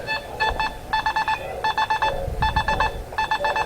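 Simplex+ metal detector sounding a high, steady tone over a smartphone target, heard as five short bursts of rapid beeps at a regular rhythm, close and clear with no speech.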